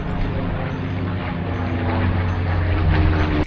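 A Spitfire propeller aircraft passing overhead, a steady droning engine rumble that holds loud and continuous throughout, with its low hum swelling slightly toward the end.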